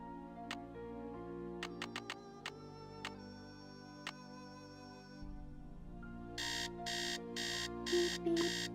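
In the Nancy Drew video game Message in a Hidden Mansion, a clock ticks steadily, then an electronic alarm clock breaks in with loud, rapid beeping in repeated evenly spaced bursts.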